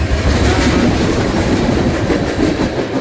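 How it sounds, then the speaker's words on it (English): A BNSF freight train rolls past in Montana with a DPU locomotive, a loud, steady, close rumble of cars with rhythmic wheel clatter throughout, no voices. "Here comes the DPU."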